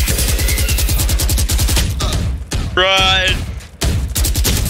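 Rapid bursts of gunfire from a battle royale video game rattle in dense repeated volleys, briefly broken by a pause and an electronic chime, while a player shouts once over the shooting.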